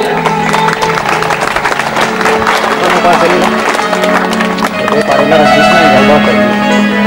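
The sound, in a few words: audience applause welcoming guests at a ceremony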